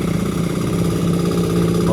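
A motorcycle on a roadside beside a rice paddy, its engine droning steadily and fairly loud throughout, with no clear talking.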